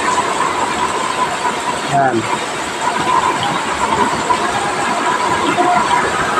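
The blower of a used-oil burner stove roars steadily throughout, a loud, constant rushing hiss, with a brief spoken word partway through.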